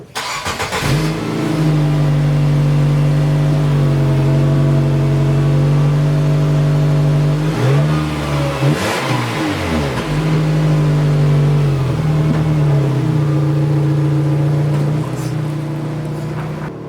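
A Nissan Sentra engine idles loudly and steadily with a low rumble, briefly revving midway, a rattling buzz from the exhaust pipe hitting the car running through the sound.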